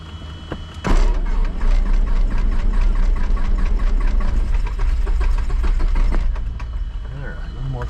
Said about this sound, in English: I pump fuel into it so it fires up.